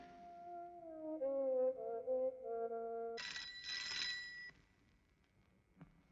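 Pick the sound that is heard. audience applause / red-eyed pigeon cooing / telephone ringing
telephone ringing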